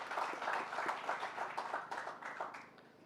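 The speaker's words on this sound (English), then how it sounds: "So I think they deserve both a round of applause" Round of applause at an infrastructure cooperation agreement signing ceremony, a modest group clapping steadily at a moderate distance, tapering off after about three seconds.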